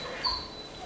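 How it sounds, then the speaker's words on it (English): A puppy gives a single brief high whine in the background of a kitchen while meat is kneaded for pork and beef liver sausage, faint and thin over low room noise. "Our sweet puppy telling us that she wants dinner in the background."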